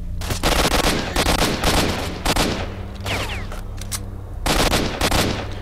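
Sustained automatic gunfire from bandits being shot at in the video game STALKER, loud rapid bursts of rifle fire in several volleys with short gaps, over a low steady hum.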